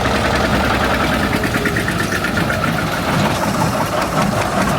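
A 720 tractor engine with no muffler runs close and very loud during hay baling, its rough, rapid knocking exhaust pounding steadily throughout.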